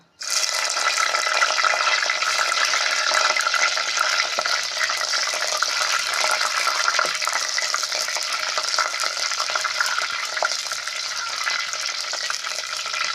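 Green chillies dropped into hot oil in a pan, giving a loud, close, steady sizzle and crackle that starts abruptly and runs unbroken with no talk.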